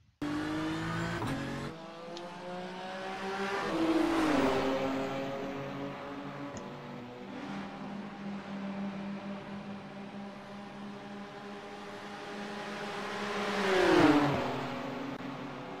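Race cars at the Bathurst 12 Hours roar past, engines climbing through the gears with rising and falling pitch. Two distinct passes peak around the middle and near the end over a steady engine drone.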